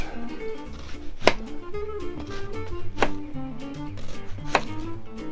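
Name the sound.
knife slicing a brown onion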